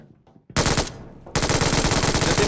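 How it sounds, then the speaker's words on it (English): MG3 machine gun in PUBG fires in a loud sustained burst, pauses briefly, then opens up again in a continuous roaring stream of rapid shots. "MG3 man is here."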